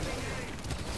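Gunfire rattles in Marvel's Spider-Man: Miles Morales, a dense burst of rapid shots blurring into a continuous volley with mechanical clatter, fairly quiet and with no talk over it.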